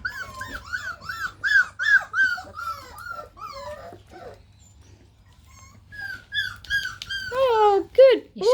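Springer Spaniel puppy, three to four weeks old, letting out a string of high whimpers and squeaky yips, close and fairly loud, with a short quiet gap midway before more urgent whines.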